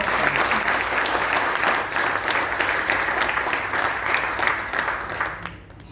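An audience at a ceremony for signing a supplementary retirement scheme for vocational training staff claps loudly in a sustained, dense burst that carries on for several seconds and then dies away abruptly.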